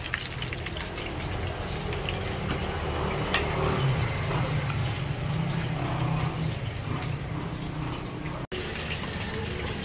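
Dense crackling sizzle of vegetables frying in a pan, steady throughout at close range, with a brief clatter partway through.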